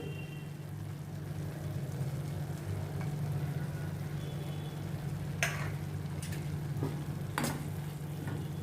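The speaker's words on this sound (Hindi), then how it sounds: "अभी पालक को भी मैं अच्छी तरह से अनियन और टमाटर के साथ मिक्स करती हूँ।" Chopped spinach being mixed with onions and tomatoes in a pan for dal palak, a soft steady sizzle under a low hum, with a few brief scraping stirs near the end, quiet and close.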